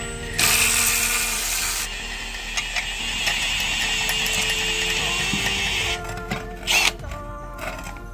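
A ratchet clicks steadily and loudly for several seconds in a garage, used during a clutch job on a Nissan Laurel with an RB20DET engine, then stops with a few final metallic clacks.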